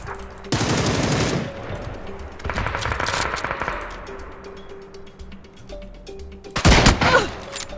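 Gunfire in a first-person shooter, loud close bursts of rapid automatic fire at the start, middle and end, separated by quieter gaps with faint pings and clinks, no talking.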